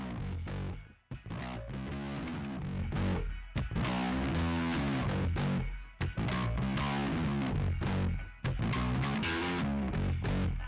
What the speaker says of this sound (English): that is a distorted, dirty bass